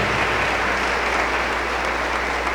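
A church congregation applauds during an Easter service, a loud, dense and continuous clapping that fills the room without a break.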